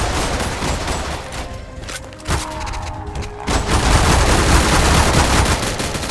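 Gunfire in the Roblox zombie game Zombie Stories, set in a research lab: dense, loud automatic shooting with sharp cracks, easing briefly in the middle and then building into sustained heavy fire.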